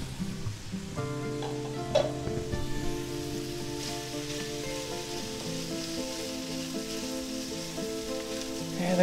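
Onions sizzle in a pan with a steady, even crackle that runs throughout, along with a faint tonal hum and a brief clink near the start.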